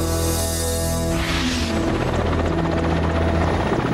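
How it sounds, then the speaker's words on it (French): Russian Air Force helicopters fly over the plains of Kazakhstan, their loud, steady rotor thrum and turbine whine holding close and unbroken throughout. "les hélicoptères de l'armée de l'air russe survolent les plaines du Kazakhstan"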